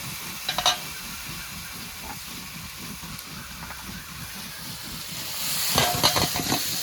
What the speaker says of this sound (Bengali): ভালো করে তেল দিয়ে ভেজে নিয়েছি, এবার নামিয়ে নেব।